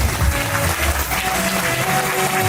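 An audience claps loudly and steadily throughout at a retirement celebration in Dombivli, a dense continuous round of applause with no voices over it.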